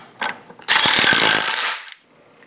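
A ratchet tool tightens part of a scooter brake assembly in one loud, close burst of rapid clicking lasting about a second, preceded by a couple of softer clicks.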